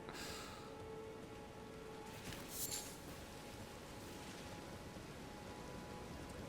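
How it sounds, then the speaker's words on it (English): Rain falling in the video game Elden Ring, a faint, steady, even hiss of drops with little change throughout and no voices. "It's raining."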